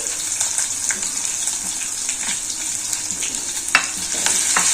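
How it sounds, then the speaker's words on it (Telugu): Tempering spices sizzle and crackle in hot oil in a pan with finely chopped green chillies, a steady frying hiss with small pops and one sharper crackle near the end, no talking. "కొంచెం ఎరిపోయేటప్పుడు మనము మిర్చి వేసుకొని వేయించుకోవాలి."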